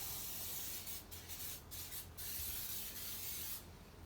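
Several short hissing sprays of tyre shine from a spray bottle onto a car tyre, spaced irregularly, close and soft over a quiet background.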